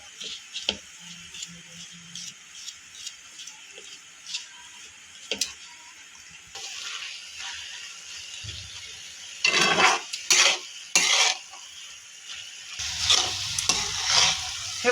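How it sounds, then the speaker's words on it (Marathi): Grated bottle gourd stir-fried in ghee for halwa, with a soft continuous sizzle, intermittent scraping and clinking of a spoon against the pan, and louder stirring bursts toward the end. "3 मिनिटं झालेले आहेत आपण परततोय हा भोपळा"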